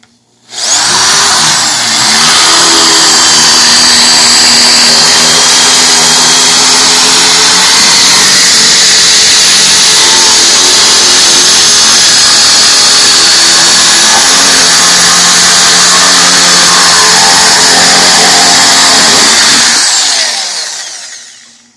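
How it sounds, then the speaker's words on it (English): A power drill whines loudly and steadily for about twenty seconds as the bit grinds through the plastic of a tub flange like a hole saw, then winds down and stops. "allow the drill bit to act like a hole saw and cut this plastic out"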